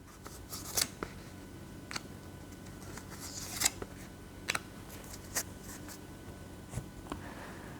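Tarot cards are drawn from a deck during a reading, with soft, faint card slides and light taps spread out at irregular intervals against a quiet background.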